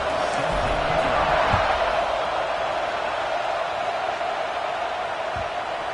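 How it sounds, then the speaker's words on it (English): A large American football stadium crowd buzzes with a steady roar of overlapping voices and noise, continuous and distant-sounding throughout. "this crowd is buzzing after that last score"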